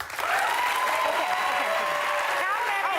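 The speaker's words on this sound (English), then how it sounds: "Clap." A television studio audience claps in a show of hands during a talk show, continuous dense clapping while voices talk over it and a few whoops ring out.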